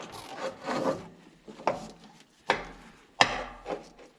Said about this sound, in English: break out the knife and I cut that